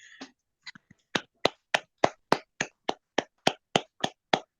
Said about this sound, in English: give Basil a round of applause